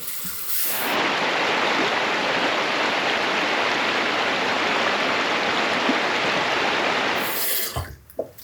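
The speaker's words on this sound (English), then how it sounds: "let's rinse off" Water runs steadily from a tap for about six seconds while rinsing off after a shave, a broad, even splashing rush that starts and stops abruptly, with no talking.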